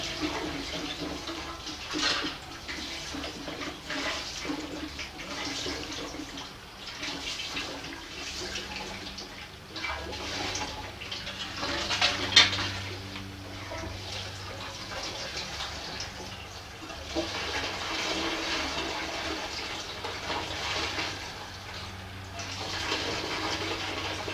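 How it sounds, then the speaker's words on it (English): Fuel sloshes around inside the tank of a Chang Jiang 750 sidecar motorcycle, a soft, irregular liquid swishing and gurgling that rises and falls over a long stretch. "It'll all get pretty well stirred in by this sloshing action."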